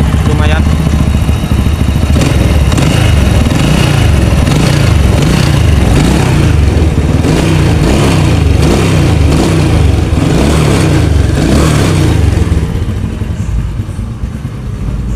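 A Honda Grand motorcycle's engine runs steadily at close range with small rises in revs, loud and continuous before easing off near the end, while someone talks over it.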